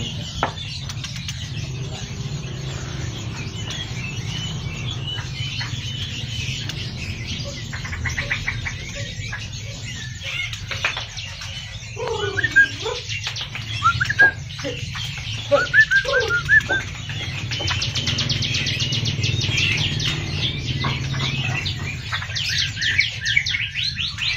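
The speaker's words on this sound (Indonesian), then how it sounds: "Jalak Bali sepasang." A pair of Bali starlings gives short chirping calls and whistles through the middle of the recording, set against a steady low background hum with occasional flutters.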